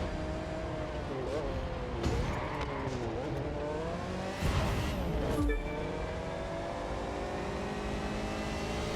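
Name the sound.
car engine revving in The Crew 2 video game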